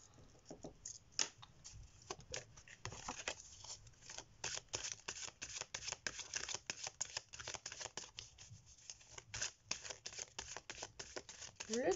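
Tarot cards being shuffled for a reading, producing a steady run of crisp riffling and slapping card snaps that continue close and busy throughout without any talk.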